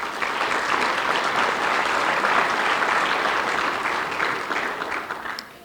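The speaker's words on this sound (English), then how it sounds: "Let's give them a round of applause." A crowd at a high school fall varsity jacket night breaks into sustained, even applause, a thick wash of many hands clapping that stays strong and then eases off at the very end.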